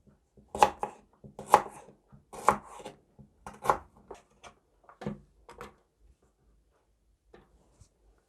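A knife chopping a piece of ginger on a board: about eight distinct cuts in uneven rhythm, close and fairly crisp, fading out into near silence.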